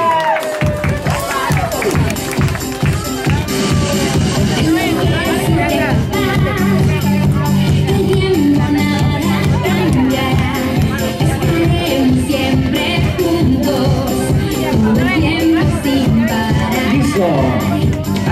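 Guests at a child's third birthday party cheer and clap loudly for the boy's mother, a lively crowd with children shouting, all mixed under loud festive music that runs continuously.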